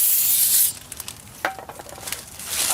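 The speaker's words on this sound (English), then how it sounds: "the new one has to be sprayed first to clean the oil" Brake cleaner hisses from an aerosol can onto a new front brake rotor for a 2002–2006 Honda CR-V, a loud close spray that cuts off, followed by faint scraping and handling noises.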